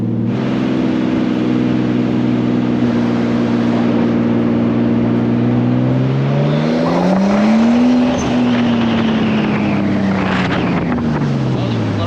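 Loud turbocharged six-cylinder Nissan Skyline R33 engine driving, its steady drone rising sharply in pitch mid-clip as it revs up, then easing off, with wind rushing throughout.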